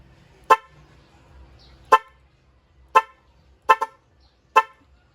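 Five sharp motorcycle dual-horn honks, each brief and bright: four spaced about a second apart, with a quick double toot near the end, loud and close.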